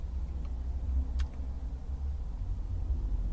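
Steady low rumble of highway traffic heard from inside a car parked right beside the highway, a muffled continuous drone with a brief faint higher swish partway through.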